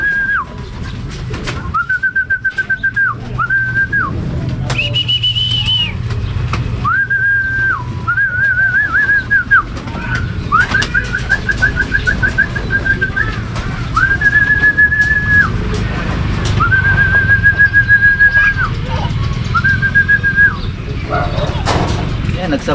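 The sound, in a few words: racing pigeons arriving, with whistling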